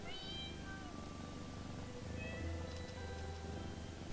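Several cats meowing in the Pocket Mirror video game, a few clear rising and falling meows over a steady low background hum, moderately loud and close.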